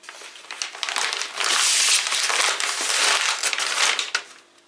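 A kraft paper package is torn and crumpled open, producing loud, continuous crinkling and crackling bursts close up, with no talk over it.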